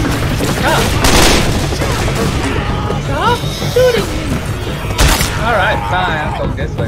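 Loud, chaotic gunfire and booming blasts in Left 4 Dead 2 fill the scene, with bursts overlapping shouted voices and game noise throughout.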